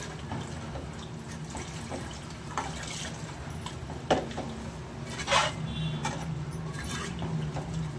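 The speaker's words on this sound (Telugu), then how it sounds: "ఇప్పుడు నీళ్ళు వేసాను కదండి" Water splashes and trickles into a pan of goat head curry, with a few brief louder splashes and drips over a constant low rumble, close by.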